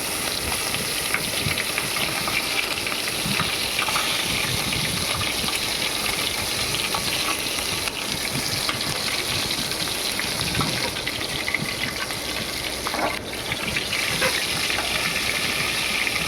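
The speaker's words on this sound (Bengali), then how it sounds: "গলদা চিংড়িগুলো এইভাবে একে একে কড়াইতে দিয়ে দিতে হবে" Giant freshwater prawns fry in a wok, a loud, continuous sizzling hiss of hot oil that holds steady with faint crackles and pops scattered through it, with no voices.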